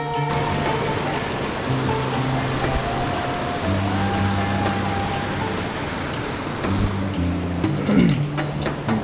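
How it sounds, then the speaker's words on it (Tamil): A small waterfall in Ooty pours with a steady, broad rushing roar, dense and unbroken at close range, with faint scattered tones beneath the water noise. "இது ரொம்ப பெரிய அருவியெல்லாம் இல்லை, சின்னது தான்."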